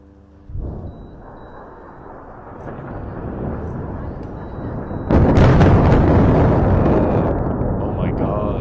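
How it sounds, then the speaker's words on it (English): Drone approaching over Beirut suburbs, its rising buzz building steadily before a sudden loud explosion on impact, followed by a sustained roaring rumble that slowly fades. "you can hear the drone kind of getting louder"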